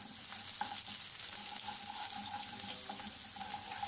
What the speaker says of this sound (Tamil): அந்த சின்ன வெங்காயம் ஒரு 3 சின்ன வெங்காயம் அதையும் போட்டு நல்லா ஃப்ரை பண்ண போகிறேன்.